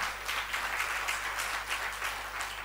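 A church congregation claps hands in praise, a dense, steady patter of many palms filling the room evenly throughout, with a low hum running underneath.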